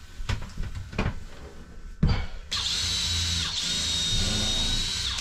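A power drill bores counterbored screw holes into wood for a wooden boat's new cabinsides. A few knocks and handling sounds come first, then the drill whines steadily and loudly up close.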